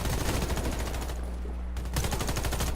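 Rapid automatic gunfire from teammates in the shooter Warface: fast, loud, continuous bursts close by, with a brief lull in the middle before the firing resumes.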